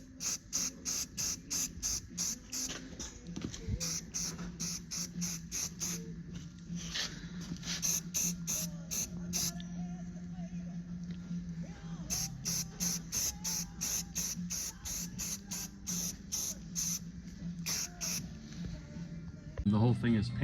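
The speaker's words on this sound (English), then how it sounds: "spray paint some primer on there." Primer sprayed from an aerosol can onto plywood on a roof rack topper for an S-10 pickup, heard as repeated short bursts of hissing spray with brief gaps, close and fairly loud over a steady low hum.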